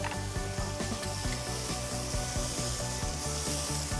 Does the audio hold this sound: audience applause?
no